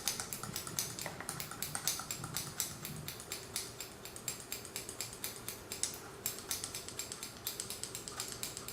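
Scissors snip rapidly along a comb while cutting a short crew-cut hairstyle. The quick, faint, crisp clicks run in a steady stream.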